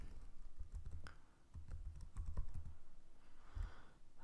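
Fingers type on a computer keyboard while entering login details, a loose run of quick key clicks with short pauses, close and fairly soft, with no talk.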